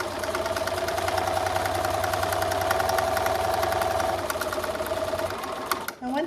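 Sewing machine running steadily as it stitches a half-inch seam through fleece fabric, a continuous close mechanical whir with rapid needle ticking that stops near the end.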